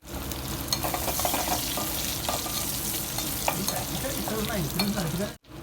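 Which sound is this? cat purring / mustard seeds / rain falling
mustard seeds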